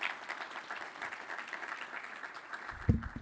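Faint conference audience applause, a thin patter of clapping that carries on steadily at low volume for a few seconds, with a sharp thump near the end.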